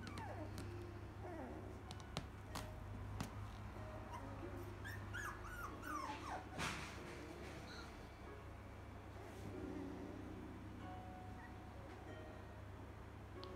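A puppy whimpers and yips in short, soft bursts against a quiet background hum, fairly close but faint.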